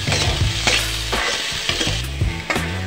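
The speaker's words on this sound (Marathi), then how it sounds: "तुम्ही बघू शकता इथे आपले दाणे चांगल्या प्रकारे भाजले सुद्धा जात आहे" Green moong beans roasting in a little oil in a pan, a dense close sizzle with rhythmic scraping and rattling of the grains as they are stirred, loud and steady, no talk.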